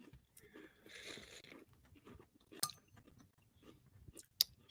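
Crunchy Cookie Crisp cereal from General Mills being chewed close up, soft irregular crunching and munching with a couple of sharper crackles, fairly quiet.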